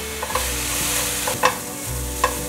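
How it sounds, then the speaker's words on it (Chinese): White radish stir-fried in a pan with shiitake mushrooms, soy sauce, salt, pepper and sugar: a continuous sizzle with a few sharp spatula scrapes and clinks against the pan, close up and with no talking. "快速翻炒"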